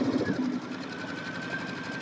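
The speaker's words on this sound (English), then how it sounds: "because we're sewing together" A sewing machine runs in a steady, close mechanical whir during a quilting sew-along on National Jelly Roll Day, a short continuous stretch of stitching heard alone.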